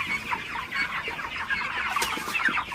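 Broiler chickens on a poultry farm clucking in a continuous busy chorus, many birds close by, with no talking.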